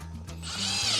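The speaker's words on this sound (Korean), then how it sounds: "그리고 여기에 맞춰서 구멍을 뚫는 겁니다." A power drill bores holes during the DIY remodel of an old Universe Noble camper van, its motor whining steadily and rising in pitch over one brief moment, fairly close and without speech.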